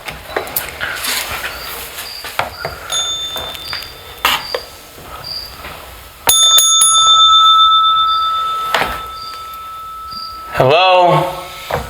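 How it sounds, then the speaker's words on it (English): A bell rung several times during a paranormal investigation, bright metallic dings ringing out sharply and near, amid shuffling, clicks and other background noise. "Let's ring the bell and see who comes."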